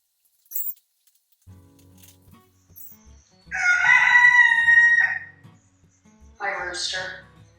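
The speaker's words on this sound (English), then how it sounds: "rooster going off." A rooster crows loudly in a long harmonic call near the middle, with a second shorter crow near the end; quiet knocks and rustles fill the gaps, and there's no talking.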